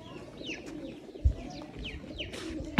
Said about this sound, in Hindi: हमारे घर न्यू कबूतर आया हुआ।